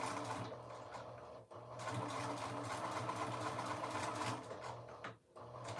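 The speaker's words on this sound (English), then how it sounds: "So forward stitch, back stitch, forward," A domestic sewing machine runs a dress seam in bursts, forward and back stitching with a steady mechanical whir broken by two short pauses; no talking.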